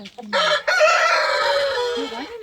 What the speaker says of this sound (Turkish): Horoz evet.